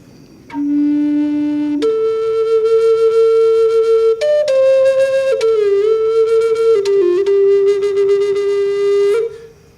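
A flute-like instrument plays a series of sustained notes as its holes open and close, stepping up and bending between pitches, with a few wavering slides, alone and fairly loud.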